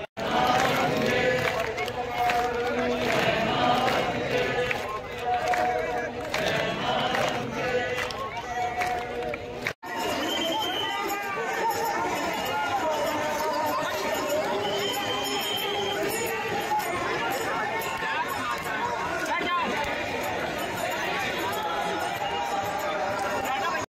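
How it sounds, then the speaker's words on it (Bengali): A huge crowd packs Har Ki Pauri ghat in Haridwar ahead of the evening aarti, a dense, steady roar of many voices and movement with layered chatter throughout, briefly cut off near the middle before the hubbub resumes. "আপনারা ভিড়টা দেখতে পারেন, জাস্ট বিশাল ভিড়"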